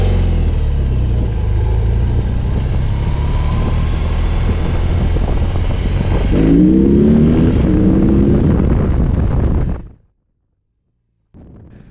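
A BMW R18 cruiser's 1802cc boxer engine roars loudly with heavy wind noise, swells as it revs harder toward the end, then cuts off abruptly into silence before a faint sound returns.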